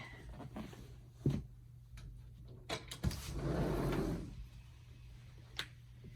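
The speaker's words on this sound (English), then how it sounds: "I'm going to open my door for a minute." An indoor door is opened on a rainy day, giving a few soft knocks and scrapes followed by a longer, louder rustling swing over a steady low hum, then a last faint click.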